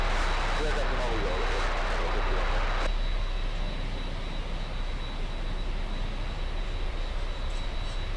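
Cathay Pacific Boeing 747 and LATAM 767 cargo jets taxiing at Miami airport, a steady, loud engine rumble and roar that holds throughout, with a brighter wash of noise early on easing after a few seconds.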